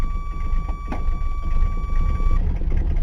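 A Ford car engine idles steadily close by just after starting, its rough, even rumble carrying on with a thin steady tone running over it for most of the time.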